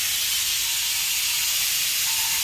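Pressure cooker on a home kitchen stove venting steam in a steady, loud, continuous hiss that holds unbroken throughout, with no voices.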